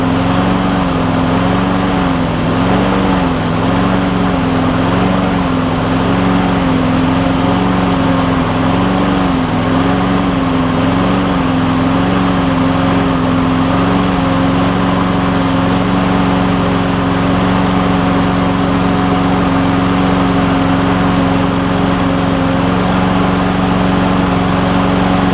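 A Briggs engine on a Craftsman push lawn mower runs almost out of gas, a loud, close, steady drone with a slightly wavering, surging tone that holds for the whole stretch, with no talking.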